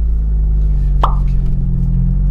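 A single sharp clunk as the dog ring gearbox in an Abarth 695 Biposto changes gear, close and distinct over a steady low engine hum.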